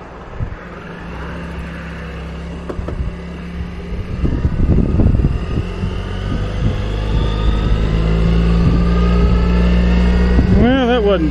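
Road traffic with vehicles rumbling past heading west, a steady engine drone and tyre noise throughout, loud and close as from inside a moving car, with a brief squeal near the end.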